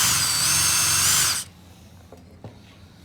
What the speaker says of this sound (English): put it in the vise so you can focus on your drill bit and not your car as you drill straight